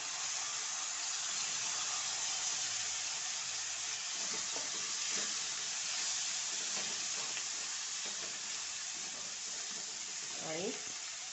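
Chopped long black winter eggplant going into a pan for fenugreek bhaji: a steady sizzling hiss with faint stirring scrapes and soft clinks throughout.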